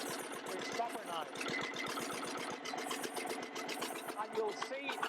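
A rare single-cylinder Gardner L2 engine with a heavy flywheel thumps rhythmically as it runs down toward a stop, a steady chugging pulse.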